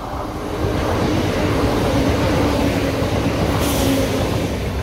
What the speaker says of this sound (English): there's a train on the other side, and it's one of the new ones